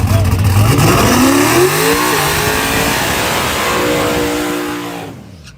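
A turbocharged, emerald green 1992 Ford Mustang Fox body revs hard close by at a no-prep drag event. The loud rising engine roar holds steady and then fades out at the end, with some talk mixed underneath.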